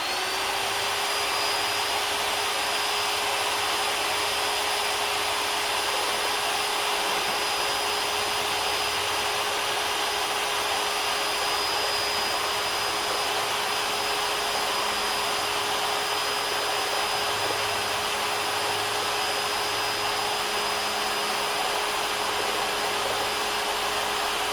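A drill-driven auger churns honeycombs in a 5-gallon bucket, giving a steady, loud, unbroken whine with a constant high tone and no pauses.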